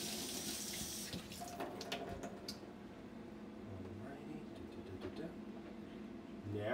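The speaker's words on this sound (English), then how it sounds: "Just wash my hands real quick here." A kitchen tap runs steadily into a sink while hands are washed after making a shrimp Caesar salad, the water faint and continuous as a voice talks over it.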